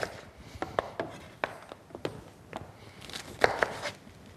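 A knife rough chopping de-seeded sweet yellow chilies on a board, a quick irregular run of crisp taps and thuds, close and clear, with a brief cluster of sharper strikes near the end.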